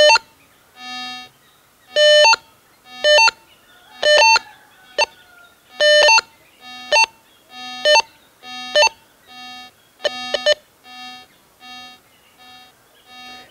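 An AKA Signum metal detector sounds a series of sharp electronic beeps as a 2.5-inch gold bangle passes in front of it, about a dozen evenly spaced tones of varying length, clear and close with no talking.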